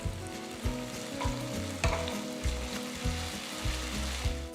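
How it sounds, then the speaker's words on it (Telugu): Chopped onions fried to golden brown in a pan with ginger garlic paste added, giving a soft, steady sizzle broken by rhythmic stirring scrapes and low thumps, close and without voices. "ఆ తర్వాత చిన్నగా తరిగిన రెండు ఉల్లిపాయలు వేసి అవి రంగు మారేంత వరకు వేయించాలి"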